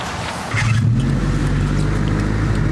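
A car engine, seemingly a rough-running project car, fires up about half a second in and settles into a steady, fairly close idle with a low droning hum throughout.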